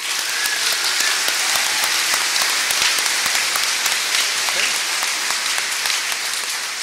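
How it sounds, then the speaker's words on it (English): Sustained applause from the audience at a Marshalltown Community College graduation ceremony honoring the class of 2018, dense and steady clapping filling the room at close range. "Please join me in applauding and honoring the class of"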